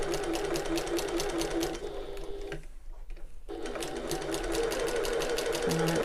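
A sewing machine runs a long basting stitch a quarter inch inside the seam allowance of a bag. It hums loudly and steadily with rapid needle clatter, pausing briefly in the middle before resuming at a constant pace.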